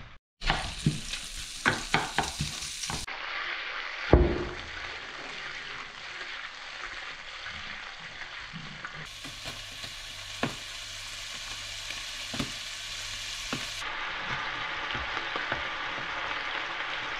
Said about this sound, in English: All we're doing is just frying our bacon up so it goes a little bit crispy